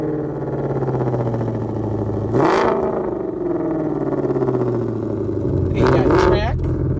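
A 2020 Shelby GT500's engine rumbles close through its exhaust and snaps into two sharp revs, with a voice speaking alongside.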